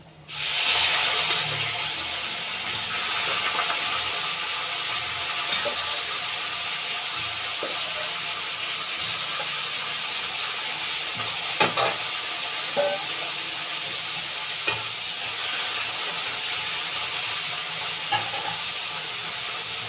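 Cauliflower florets drop into a hot pan for a potato, cauliflower and pumpkin curry, bursting into a loud, continuous hiss of frying with occasional clanks of a spoon stirring, steady for the full stretch without talk.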